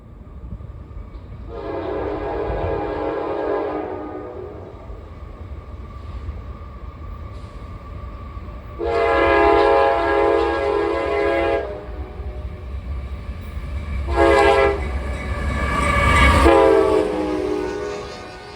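A CSX locomotive sounding its K5LA five-chime horn in three long blasts, the last one shorter and broken, loud and close over a steady rumble of the passing train, with no voices.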